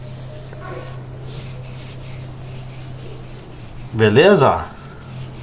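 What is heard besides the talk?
brush scrubbing paint off a tire with thinner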